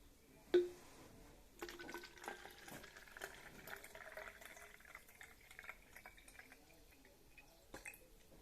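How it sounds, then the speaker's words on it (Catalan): Water trickles and splashes into a plastic bottle already holding food colouring, a soft uneven liquid pour lasting several seconds after a sharp tap near the start, close and fairly quiet with no talking. "fiquem una miqueta més d'aigua"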